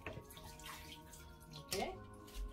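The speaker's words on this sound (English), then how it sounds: "After washing the chicken with cold water, I am going to use the vinegar real quick. Pour some vinegar." Vinegar splashes and trickles over raw washed chicken in a bowl, soft pouring and sloshing of liquid at close range, in short bursts.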